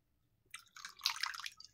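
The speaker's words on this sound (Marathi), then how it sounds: "थोडेसे व्हिनेगर टाकून आपण ही मच्छी धुवून घेणार आहोत" Kupa fish is rinsed by hand in vinegar water. Soft, close splashing and dripping begins after a brief silence and continues as a wet, sloshing patter, with no talk.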